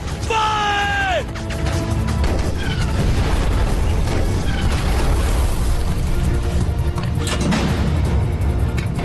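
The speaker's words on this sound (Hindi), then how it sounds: "दुश्मन का टैंक फायर!" Loud booming blasts and crashing explosions of tank fire in a Pakistani war film battle scene, a dense continuous roar with a whistling sweep at the start.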